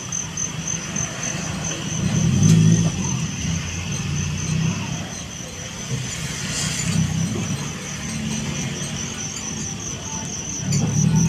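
Road traffic with cars passing in slow waves of low rumbling engine noise, each vehicle swelling and fading, over a constant high chirping of insects.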